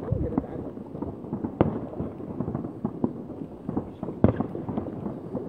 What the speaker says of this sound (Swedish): Vi har väl egna jävla fyrverkerier här.